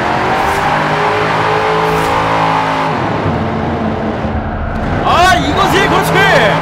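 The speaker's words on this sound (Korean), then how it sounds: "제가 터널에서 배기음 한번 들어볼게요." A loud American muscle car's engine rumbles and revs in a tunnel, the deep exhaust note swelling and echoing, with a person speaking over it near the end.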